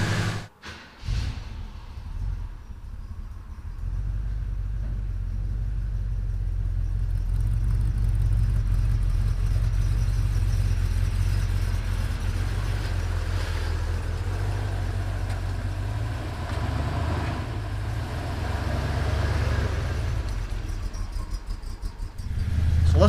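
The engine of a 1977 Chevy C10 pickup truck, fitted with new rocker arms and push rods, rumbles as it drives with a steady deep engine drone and road noise, loud and continuous throughout.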